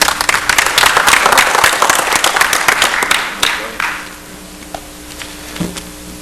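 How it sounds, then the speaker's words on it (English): A burst of applause from a crowd at a public proclamation meeting, dense clapping for about four seconds, then fading into scattered claps and a quieter room. "applause will be allowed today"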